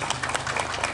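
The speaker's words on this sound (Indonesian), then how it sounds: "Sekali lagi tepuk tangan buat relawan kita." Applause for volunteers at a mosque lecture comes as a short patch of clapping from a crowd.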